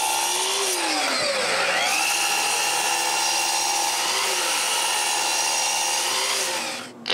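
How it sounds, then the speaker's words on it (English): A drill bores holes through two stacked 6mm plywood layers at once, a sustained motor whine with pitch sweeps as the bit loads and frees, ending abruptly with a short clatter. "I drill the holes on both of them at the same time"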